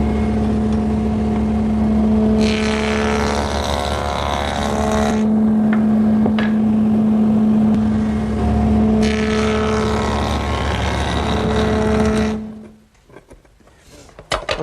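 A woodworking machine with its fence set runs wood pieces through to cut a bead profile, a loud steady motor whine with rougher cutting surges over two passes before spinning down.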